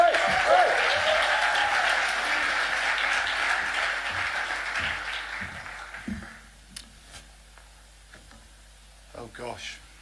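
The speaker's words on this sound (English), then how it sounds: "let's give our Director General a great big round of applause" An audience at a 2018 forum in Accra, Ghana, applauding the Director General, dense clapping for about six seconds that thins into scattered claps, with people talking as it dies away.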